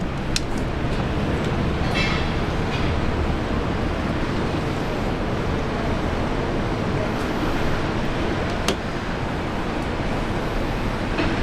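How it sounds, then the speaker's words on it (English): Jetstar Airbus A321neo jet departing Brisbane Airport, a loud, steady broadband roar of engine thrust sustained throughout, heard from outdoors with faint voices in the background. "One of Jetstar's new A321 Neos departing."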